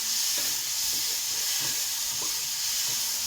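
Prawns fry with a bay leaf in a hot pan, giving a loud, constant sizzling hiss up close. Faint clinks from stirring tick underneath it.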